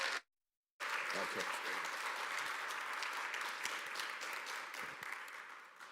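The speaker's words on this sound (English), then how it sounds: "please give a round of applause for Linas Dičpetris." Conference audience applause greets a speaker at a business strategy event, following a short silence with a full, steady burst of clapping that holds and then tapers slightly at the end, with some speech-like sound mixed in.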